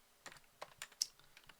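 Computer keyboard keys, including the Tab key, pressed while coding an Angular 2 example: about half a dozen quick, soft clicks in an uneven rhythm, close but quiet, with no talking.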